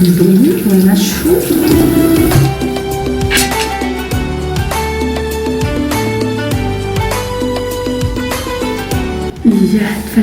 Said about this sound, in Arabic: ومن بعد باش نغسل وجهي بالماء بالبولي وننشفو